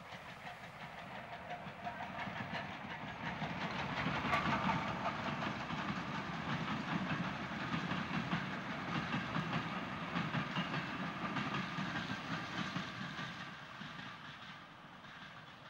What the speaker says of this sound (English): a Stanier 264 in charge of a suburban train